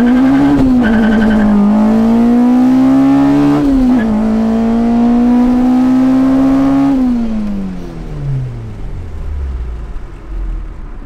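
A 2004 Acura RSX Type-R engine revs hard under acceleration, a loud, high, steady howl that dips briefly at a gear change, then winds down as the car backs off the throttle.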